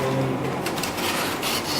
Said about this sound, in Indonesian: Kita menggunakan amplas dan kita mengamplasnya menggunakan satu arah